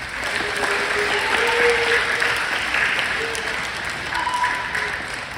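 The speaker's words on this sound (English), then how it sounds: "How about a round of applause for these talented monsters?" An audience at a Monster Day event gives a round of applause for the performers, steady many-handed clapping mixed with cheering voices and a few whoops, held at a full level throughout.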